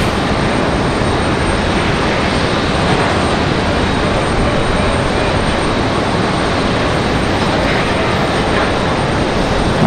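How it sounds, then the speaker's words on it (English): A Southwest Airlines jet from Tampa arrives and lands at Raleigh Durham International Airport, a steady broad engine rumble that stays loud and constant throughout, with no voices. "Looks like we got Southwest arriving now."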